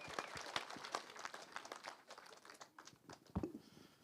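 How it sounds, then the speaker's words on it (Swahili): Audience applause for the president of the National Nursing Association of Kenya at an International Nurses Week celebration, a faint, uneven patter of clapping from a crowd. "Makofi mazuri kwa president."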